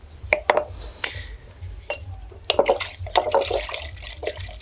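Workshop items being rinsed out in ordinary water, with irregular splashes, sloshing and clinking knocks of containers, close and intermittent, no speech.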